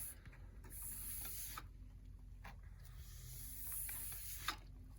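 A horsehair or silver metal brush scrubs across a waxed ski base in short, faint bristly strokes, separated by brief pauses.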